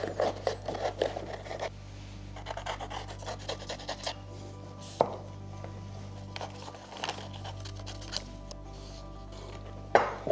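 Scissors or a tool cutting out a shape traced with a Neocolor II crayon, giving soft irregular snips and scrapes in uneven bursts with quiet gaps and a few sharper clicks.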